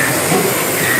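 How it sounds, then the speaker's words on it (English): A small motor spins at high RPM during a gear ratio check, giving a steady, loud, close whine with a dense high-pitched buzz held for the whole second. "and then we accelerate the motor."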